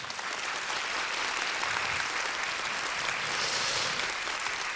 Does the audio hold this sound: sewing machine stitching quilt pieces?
no